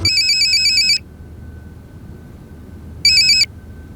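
A phone ringtone chirps in a short burst, pauses for about two seconds, then starts again briefly, over a low background hum.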